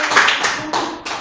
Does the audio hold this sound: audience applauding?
yes